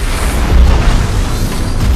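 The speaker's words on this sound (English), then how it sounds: "Dr. Brand, Cooper, there's been an explosion." A deep explosion boom from the film Interstellar, a loud low rumble that fills the whole moment and rolls on without a clear end or any voices over it.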